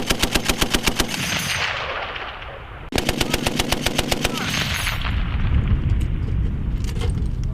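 Machine gun fire from U.S. Marines on a live-fire exercise at Camp Fuji, Japan: loud, rapid automatic bursts, one long string broken by a brief pause and then resumed, with dense rattling crackle beneath.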